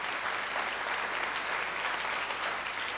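An interview audience applauds a remarkable book, a dense, even wash of many hands clapping that holds steady from start to finish with no talk over it.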